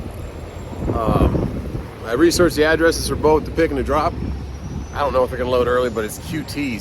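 Wind buffets a microphone outdoors in gusty rumbles beneath someone talking, the low roar rising and falling between his words.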